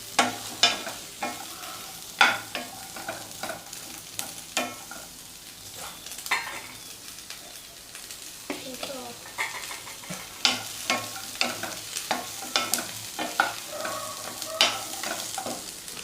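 Onion, ginger, garlic, cashews and dried coconut sauté in oil with a continuous sizzle, broken by frequent sharp scrapes and taps of a spoon stirring the pan, close and clear throughout.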